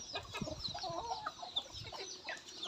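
Several Thai village chickens cluck and murmur continuously nearby in a backyard flock, with a low farmyard hum underneath.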